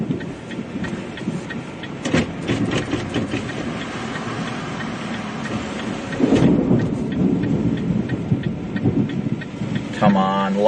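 Heavy rain falls steadily under a tornadic supercell thunderstorm near Hattiesburg, Mississippi, with deep rolling thunder swelling midway and distant rumbles; a voice talks briefly at the end.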